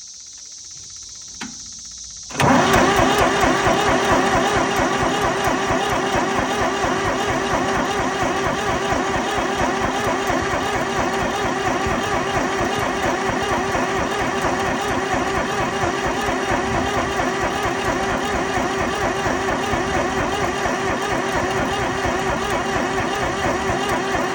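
An old Brouwer forklift with a 3-cylinder Ford diesel, idle for 7-10 years, gives a small click, then catches after a couple of seconds and runs on loud and steady with a rough, chugging idle and no talk.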